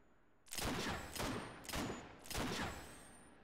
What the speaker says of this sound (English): you can just go all ham and start spamming rounds